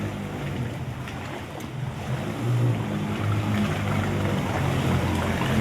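Floodwater sloshes and splashes through a flooded colony street in Bhawanigarh after rain, a steady, loud rushing wash with a low rumble underneath and no voices.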